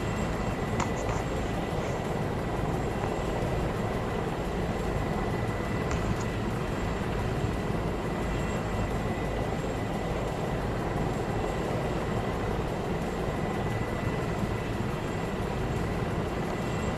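A video game aircraft roars past on a flare flyby, producing a loud, constant engine drone with a steady broadband rush that holds at the same level throughout, with no pause or quieter stretch.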